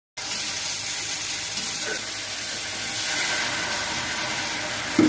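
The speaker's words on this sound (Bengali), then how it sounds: "প্রথমে কড়াইতে তেল গরম করে নিয়ে কেটে নেওয়া করমচাগুলো ছেড়ে দিয়ে" Cut karamcha fruit pieces sizzling in hot oil in a wok, a steady, close, continuous hiss and crackle that holds level throughout with no talking.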